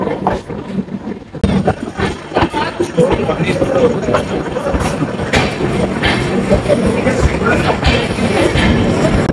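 Garib Rath Express with LHB coaches rolling into Pratapgarh railway station, a steady loud rumble of wheels and carriages with clattering rail noise throughout, under a busy crowd babble on the platform.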